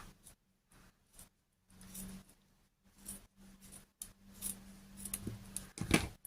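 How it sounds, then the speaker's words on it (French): Scissors cut the top off a sock in a series of quiet, close snips and crunches separated by short silences, growing a little sharper toward the end. "maintenant je vais couper le haut de la chaussette, hein, parce que c'est trop haut"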